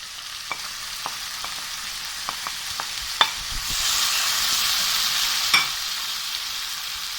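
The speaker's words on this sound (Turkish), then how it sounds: "Şimdi pembeleşti soğanlarım, Domatesimi ilave ediyorum." Onions and tomato frying in a pan for a cheese omelette: a steady close sizzle, growing louder partway through, with a few light clicks and taps of a utensil against the pan.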